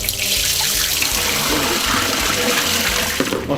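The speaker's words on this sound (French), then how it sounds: "Donc on va prendre l'eau pour mettre dans la machine." Water poured into a Patamix choux pastry machine, a steady close gush and splash running continuously with a faint rhythmic mechanical hum beneath, no voices.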